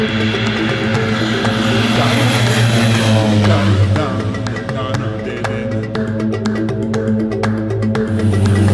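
Inside a small skydiving airplane during the climb, a loud, steady propeller and engine drone fills the cabin throughout, with faint voices underneath.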